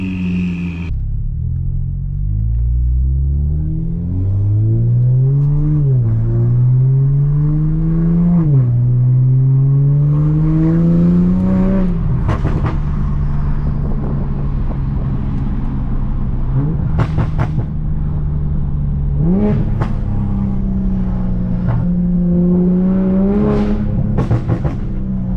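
A Toyota Supra's turbo engine revs loud and close, climbing through several rising pulls before settling into a steady idle-like drone, with sharp bursts and crackles as the throttle is blipped again later.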